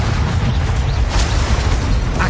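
A Confringo spell explodes in the game Hogwarts Legacy as a loud, dense rumbling blast that fills the whole stretch with heavy low-end roar and crackle.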